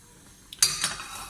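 Metal pots, pans and utensils clink and clatter briefly in a home kitchen while a toddler's rice dish is prepared, a sharp knock followed by a few lighter rattles, close and fairly quiet.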